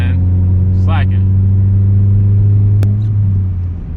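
Inside a twenty-year-old car driving in traffic, a steady, close engine drone hums without clear revving, with a brief voice-like sound near the start.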